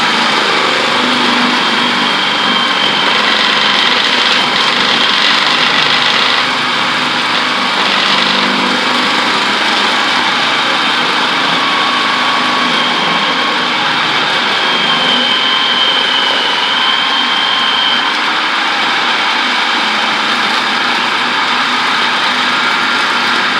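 A food processor with a loose, wobbly lid runs continuously and loudly, giving a steady high motor whine with no pauses.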